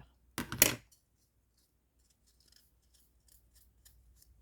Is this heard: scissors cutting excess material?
yes